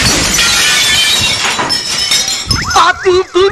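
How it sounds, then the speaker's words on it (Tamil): A television is smashed in a film scene, a loud burst of shattering glass and breaking debris filling the first seconds, followed by agitated voices speaking over the aftermath. "டிவி உடைச்சிட்டாயா"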